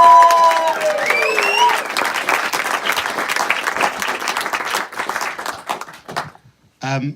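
Wedding guests clap in a broad, steady round of applause at a reception speech, with voices and a few whoops mixed in, fading near the end before a brief voice returns.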